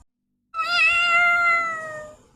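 A cartoon snake with a cat's head lets out a single drawn-out meow, bright and close, sliding gently downward in pitch and fading after about two seconds, with no talking over it.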